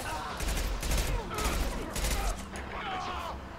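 Rapid gunfire and bursts of shooting from the video game Mass Effect 2, dense and continuous across the moment, with a combat voice briefly heard in the mix.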